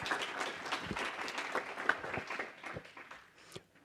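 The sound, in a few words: audience applause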